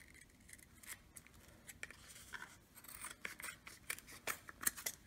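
Scissors snip and trim material while rebuilding Simplex player piano unit pneumatics, a series of short, close, crisp cuts in an irregular rhythm, some quick pairs, against a quiet background.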